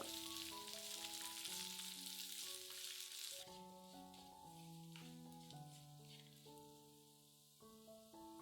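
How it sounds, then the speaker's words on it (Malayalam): Dried red chillies, curry leaves and sliced shallots fry in hot oil for a Kerala moru kachiyathu, with a continuous close crackling sizzle that eases a little midway, and no voices. "വറ്റൽമുളക്, കറിവേപ്പില, അരിഞ്ഞു വെച്ചിരിക്കുന്ന ചെറിയ ഉള്ളി ഇതെല്ലാം കൂടെ ചേർത്തിട്ട് നന്നായിട്ട് മൂപ്പിക്കുക."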